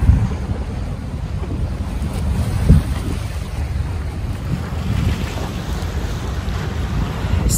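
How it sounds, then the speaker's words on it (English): Ocean waves wash steadily along the Doha Corniche waterfront under strong wind buffeting the microphone, a continuous surf rumble with no voices. "See the waves? Hear the waves?"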